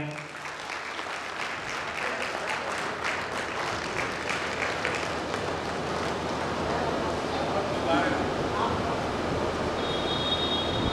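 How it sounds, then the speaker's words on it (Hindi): A crowd at a felicitation ceremony in Balaghat breaks into sustained, loud applause that swells and holds for several seconds, with murmuring voices mixed into the clapping. "जोरदार तालियां"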